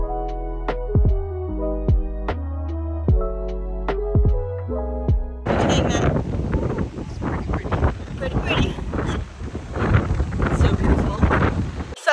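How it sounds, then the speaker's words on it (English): Strong wind buffets the microphone with a rough, roaring rush that swells and gusts continuously on a beach between cliffs on Oahu, Hawaii, following a stretch of music at the start. "it's really windy, so I don't know if you can hear me at all"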